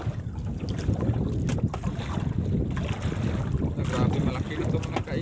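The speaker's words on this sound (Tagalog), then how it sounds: "Lakas pa naman ng hangin." Strong wind gusts over a boat out at sea, rushing and buffeting the microphone in loud, uneven bursts throughout.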